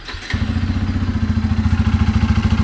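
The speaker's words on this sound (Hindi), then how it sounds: "बाइक को स्टार्ट करने पे ना टन टन की आवाज़ आती है।" A Bajaj Pulsar N250 motorcycle starts up and settles into a rhythmic idle with a regular knocking tan-tan beat, loud and close, with no one talking.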